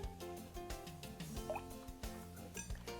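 Grapeseed oil and vanilla are poured into soy milk for cranberry walnut scones: a quiet, brief liquid pour with soft gurgles and drips, close by.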